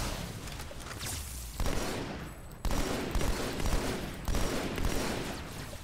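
Gunfire in the Halo 2 video game, dense bursts of rapid shots and heavy blasts in several loud waves, with brief lulls between them.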